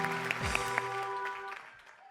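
Audience applause on a Pakistani couple talk show, a short burst of clapping that rises and then fades over about two seconds, fairly quiet, with some background voice and tonal hum underneath.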